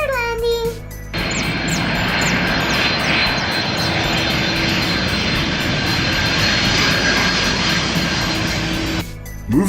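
A fixed-wing airplane coming in to land sends out a loud, continuous engine roar for most of the clip. It starts and cuts off sharply, with brief children's voices before and after.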